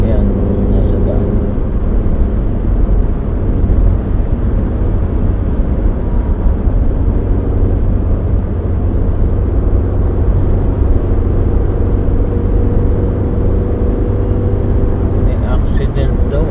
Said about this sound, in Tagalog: Kaya marami na rin sasakyan nasa daan.